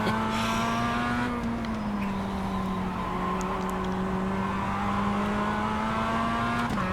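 Steady engine drone from inside a Mazda MX-5 race car lapping a track, a sustained mid-pitch tone that dips and rises slightly with throttle, with brief tire noise.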